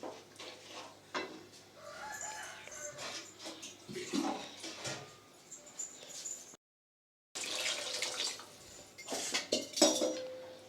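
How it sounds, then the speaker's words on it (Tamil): Water poured into a cooking pot of idli kurma with vegetables, heard as close splashing and clattering of pot and utensils in bursts, with a brief silent gap partway. "இப்போ தண்ணி நம்ம தேவையான அளவு நம்ம தண்ணி சேர்த்துக்கலாம்."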